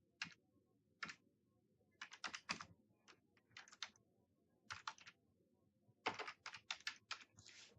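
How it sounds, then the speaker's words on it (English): Computer keyboard typing in bursts of quick, close keystrokes, with short pauses between clusters of clicks, heard clearly alone. "so we are going to type in"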